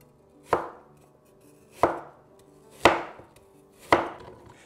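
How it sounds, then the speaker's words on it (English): A knife slices crosswise through a halved apple: four crisp, evenly spaced chops strike the cutting board, each a sharp close thunk with a short crunch, separated by near silence. "Cut the apple in half and then cut each half into 1/8 inch to 1/4 inch slices."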